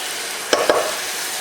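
Ground beef and potatoes frying in a pan, a steady soft sizzle broken by two quick scraping clacks of a utensil stirring them, close and alone.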